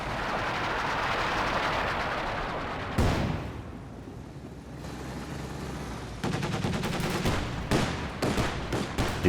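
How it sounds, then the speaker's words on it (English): Company of Heroes 2 battle: sustained machine gun bursts with incendiary rounds and heavy cannon blasts, rapid rattling volleys broken by a sharp loud boom, then dense fusillades continuing to the end. "Incendiary rounds coming out from the machine gun"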